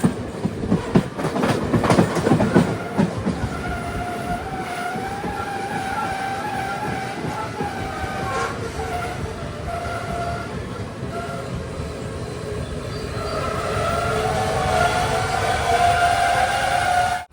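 Aboard the Yal Devi Express in Sri Lanka, the train rolls into a station with a steady rumble and clatter of wheels on rails, then a long squeal of brakes as it slows, with some faint talk.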